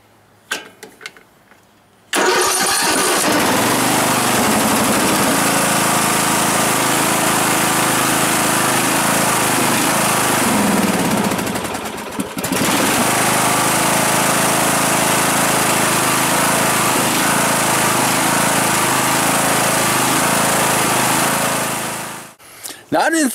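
A Craftsman lawn tractor engine cold starts with the choke on, then roars into a loud, steady continuous idle, with a brief dip midway before running on and cutting off near the end.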